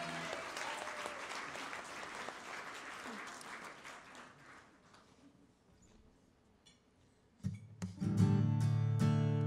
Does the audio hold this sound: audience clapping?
yes